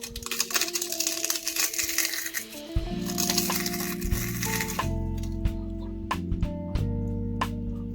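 Crisp crackling and crunching of homemade potato papad being broken, a dense burst of snapping fragments at first, then sparser sharp cracks over a steady low hum.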